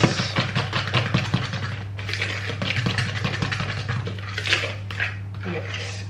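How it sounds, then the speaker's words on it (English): Brownie batter is stirred in a bowl with a utensil, producing repeated close scraping and clinking against the bowl over a steady low hum. "And you just kind of want to mix."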